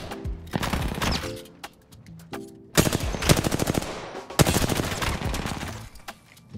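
Automatic weapon fire in the video game Apex Legends, rapid bursts of gunshots that come close and loud in several volleys with short pauses between them, no speech.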